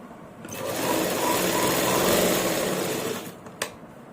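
A sewing machine stitches a shirt, its motor whirring in a steady, fairly close run for about three seconds before stopping, followed by a short sharp click.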